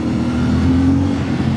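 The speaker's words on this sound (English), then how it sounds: "CFMOTO 450MT, including a very gentle exhaust note." A CFMOTO 450MT adventure motorcycle's exhaust note, a steady, loud, close engine hum with a low droning tone and a slight rise in revs partway through.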